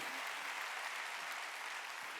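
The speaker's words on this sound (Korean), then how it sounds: "박수 치라 이게." A church congregation claps during a Wednesday worship service, steady dense applause with no clear gaps, fairly faint and distant-sounding throughout.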